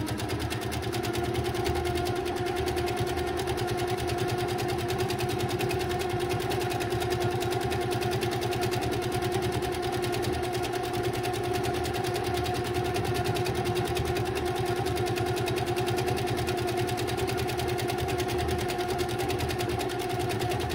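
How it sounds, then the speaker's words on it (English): A sewing machine runs continuously while free-motion quilting feathers on a practice panel, making a fast, even stitching buzz that stays steady and moderately quiet the whole time. "And now I'm going to go ahead and quilt the feathers in."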